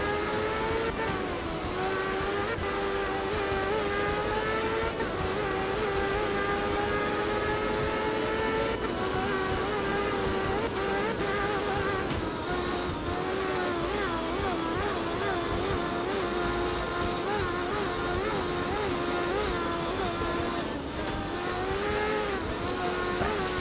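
Rally car engine in the art of rally game, with a steady, loud mid-pitched drone that rises and falls as the car shifts and accelerates, running continuously with no talking.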